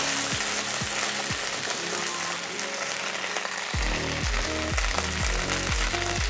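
Potatoes roast in a pan with a steady, dense sizzle throughout, while a repeated low thumping pulse runs underneath and speeds up in the second half.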